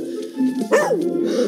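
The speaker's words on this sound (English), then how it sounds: "Snowy makes his heroic entrance and stares down the dog and barks so loudly he barks him into submission" Snowy, the small white terrier in the film The Adventures of Tintin, barks loudly at another dog: a couple of sharp, close barks rising over a whimpering, yelping dog sound, briefly overlapping a voice.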